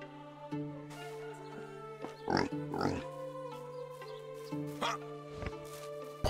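A few short pig grunts and oinks from the video game Medieval Dynasty pop out over a steady, tonal background hum, spaced irregularly a second or two apart.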